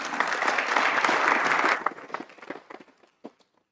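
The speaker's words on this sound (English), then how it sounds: "we can't clap enough for you" Audience at a town council meeting applauding students of the month, a loud burst of clapping that fades out into scattered last claps and shuffling.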